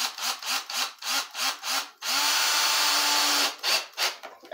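A power driver sends screws into the wood of an old wooden runner sleigh, with short rhythmic bursts of whirring, one long sustained drive in the middle and more short pulses after it, close and clear with no talking.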